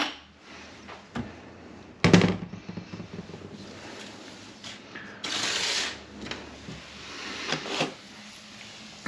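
Reverse gear parts from a manual 6-speed transmission being tossed into a container in a workshop, heard as a few scattered metallic clunks and rattles, with one louder clatter early and a longer jumble of small metal pieces settling midway.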